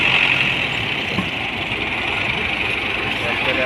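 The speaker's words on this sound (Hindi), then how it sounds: "ट्रैक्टर अब जोर लगाता जा रहा है" A tractor engine labours hard under heavy load while pulling a harvester stuck in a swamp, a steady loud drone with a knocking edge running continuously throughout.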